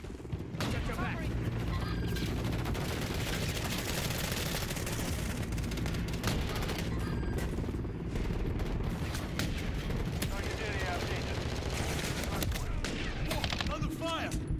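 Rapid gunfire in XDefiant multiplayer, loud bursts of automatic weapons and repeated shots overlapping in a continuous barrage, with voices talking over the action.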